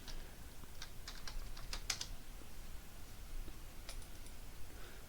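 Fingers typing a URL on a computer keyboard: a short run of quiet close key clicks in an uneven rhythm, over a steady broadband hiss.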